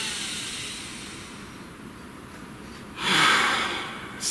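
A single deep breath drawn in near the end, a broadband airy inhale rising after a stretch of quiet room hiss, with a second breath starting right at the close.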